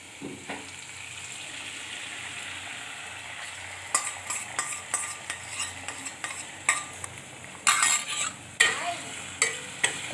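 Beaten eggs for an omelet stirred in a pan, with a soft sizzle underneath and sharp, repeated utensil scrapes and taps against the metal growing louder and quicker toward the end, close by and without speech.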